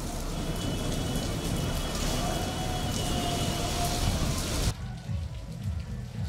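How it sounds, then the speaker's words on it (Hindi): Heavy rain driven by wind pours onto streets during a religious procession, a loud, continuous hiss that drops and thins abruptly in the last second and a half. "बारिश शुरू हो चुकी है हवाओं के साथ।"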